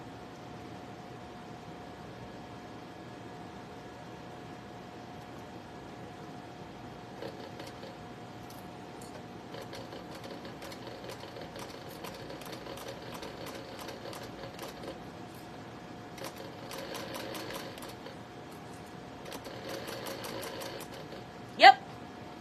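Sewing machine stitching a cork wallet runs in a few short bursts of rapid needle clatter, faint and close, over a steady background hum, ending after a handful of stitches with a sharp click.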